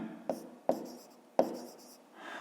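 A pen writes on paper while a fraction is worked out in a fifth-grade maths exercise, giving three sharp tapping strokes with soft scratching between them. The sound is close and quiet, and there is no speech.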